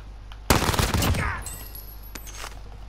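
A loud burst of automatic gunfire in Call of Duty: Warzone cracks close by, followed by a fading echo tail and a couple of fainter distant shots.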